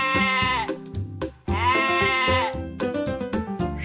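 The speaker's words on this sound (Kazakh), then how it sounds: "Ешкі." A goat bleats twice in long, wavering, nasal calls, loud and close, with a short pause between them and no talk over the sound.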